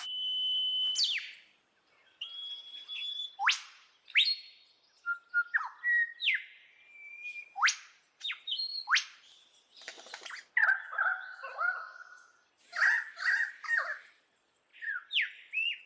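A lyrebird imitates the songs of other birds in a long run of varied whistles, chirps and sweeping calls, clear and close with short pauses between phrases.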